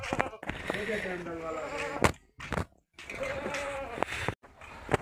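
Sheep or goats on a farm at evening give bleating calls in two long stretches, fairly close and fairly loud, with insect-like buzzing and rustle underneath and brief gaps between.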